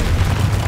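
A dense, sustained low rumbling blast from the Confringo blasting curse in the Hogwarts Legacy game fills the moment, loud and steady with no pause.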